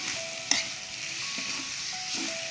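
Pork being stir-fried in a pan for a spicy northern Thai dish: a close, steady sizzle with a sharp clank of the spatula early on and light scraping, no talking.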